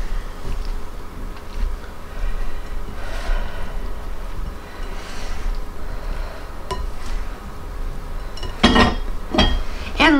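A big spoon mixing a bowl of pasta salad gives quiet scrapes over a steady background hum, then a cluster of sharp clinks against the bowl near the end.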